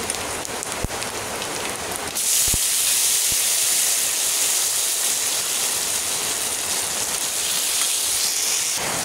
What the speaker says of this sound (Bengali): তেল গরম হয়ে গেছে, ফোড়ন দিয়ে দিব। এবারে মাছটাকে দিয়ে দিব।